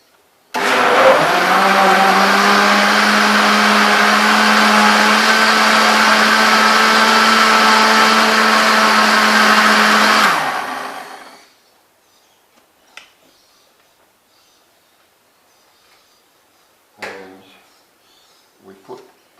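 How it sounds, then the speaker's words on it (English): A blender purées bananas for muesli bars with a loud, steady whir that stops sharply after about ten seconds, followed by quiet handling noises. "So we're just going to blend that now."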